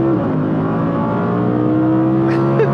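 An Audi R8 V10 Performance engine in performance mode holds a loud, steady high-revving roar heard from inside the car, its harmonic tone rising slightly near the end.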